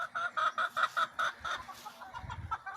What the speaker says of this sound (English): There's my chickies.